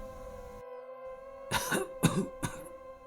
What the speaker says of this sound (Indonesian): terdengar suara batuk pelan dari dalam gubuk itu